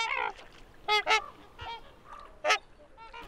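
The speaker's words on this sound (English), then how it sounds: "These are trumpeter swans. You can tell from their calls why they're called trumpeter swans." Trumpeter swans, the largest waterfowl, give loud, brassy honking calls in several separate bursts, some doubled, with quieter calls between them and no talking.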